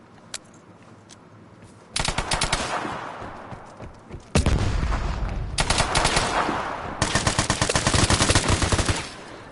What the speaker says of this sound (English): This man is shooting me with a fucking Raffica